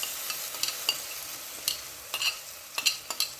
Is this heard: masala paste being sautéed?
yes